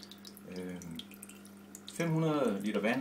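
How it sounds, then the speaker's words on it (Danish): Gentle water trickling in an aquaterrarium, a steady soft splashing stream running beneath a person talking, growing a little louder partway through. "Og det er en behagelig risling."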